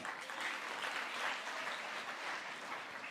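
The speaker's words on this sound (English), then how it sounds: "I need you to clap for that." Audience members at the Guyana Energy Conference applaud, a steady wash of many hands clapping at a moderate, even level with no voices over it.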